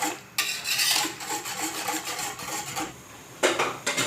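A spoon stirring a coconut milk jelly mixture in a pot as it heats toward a boil, making continuous scraping and rubbing strokes in close, steady waves with a brief pause partway through, and no one talking.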